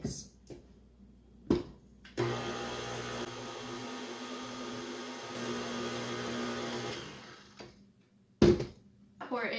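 An electric mixer whirs steadily through cake pop batter for about five seconds in the middle, preceded and followed by a few brief knocks and clatters against the bowl.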